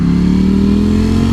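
A 2018 Ducati Panigale V4S motorcycle engine drones loud and close in a steady, throaty hum with a gently rising pitch, with no voices over it.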